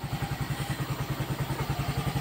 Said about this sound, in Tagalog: umandar na yung ating motor.